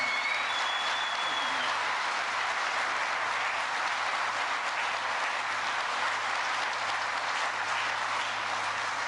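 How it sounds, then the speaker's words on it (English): Sustained crowd applause at an outdoor plant groundbreaking under a tent in Lancaster, Ohio, a steady dense wash of clapping throughout with no break. "Give Don and the team here at Magna another round of applause, will you?"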